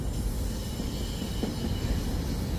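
An Amtrak train running near 30th Street Station in Philadelphia produces a steady, fairly distant rumble that holds at an even level throughout, with no talking.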